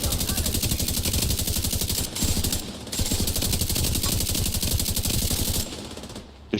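A light machine gun fires in The Division video game, long loud bursts of rapid automatic fire with two brief gaps, cutting off near the end.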